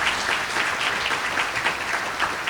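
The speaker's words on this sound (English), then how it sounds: "Let's go ahead and give that a hand clap." Audience at a diversity awards celebration clapping steadily throughout, a dense, even crowd applause without talk.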